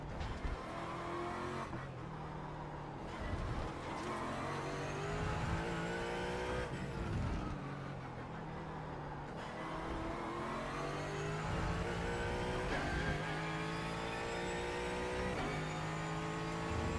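A Mercedes race car lapping a track section, its engine revving up and down through repeated gear changes with rising and falling pitch, steady and moderately distant.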